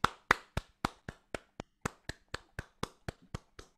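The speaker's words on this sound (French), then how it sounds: "on applaudit" A few people on a French talk show clap at an even, moderate rhythm, about fifteen crisp distinct claps close to the microphone in a quiet room.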